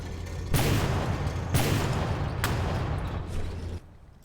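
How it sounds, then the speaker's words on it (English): Ship turret fire in From the Depths, three heavy booming shots about a second apart, each followed by a dense rumbling roar that cuts off abruptly near the end. "My turret is like completely lost it. No idea what it's firing at."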